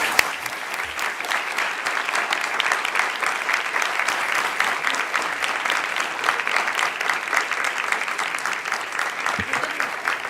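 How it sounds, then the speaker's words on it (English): Sustained audience applause closing a NASA event on the search for life in the universe, a steady dense wash of many hands clapping at moderate volume for about ten seconds without a break. "Let's have another round of applause."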